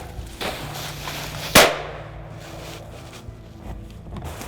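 A single sharp gunshot fired at a running deer during a bush push, one loud crack standing out against outdoor background noise with no talk over it.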